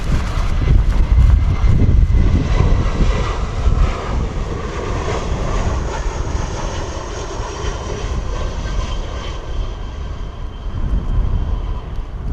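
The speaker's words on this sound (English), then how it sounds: "Wow, that EasyJet coming in high as well." EasyJet airliner approaching to land at Bristol Airport in strong 35-knot evening winds, a loud sustained jet engine roar with broadband rushing and wind buffeting throughout, no talk.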